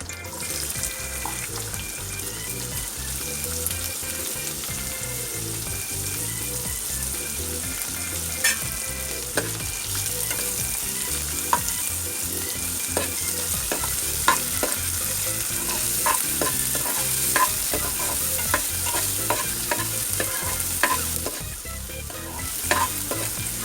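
Chopped onion frying with mustard seeds and cumin in a pan, a long steady sizzle broken by frequent scraping stirs and metallic clinks of the spoon against the pan, close up with no speech.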